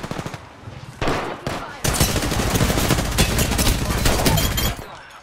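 Sustained automatic gunfire in the battle royale game Apex Legends, with Gibraltar in Gold ranked play, starting as scattered shots then erupting into loud, dense rapid bursts that continue for several seconds before cutting off.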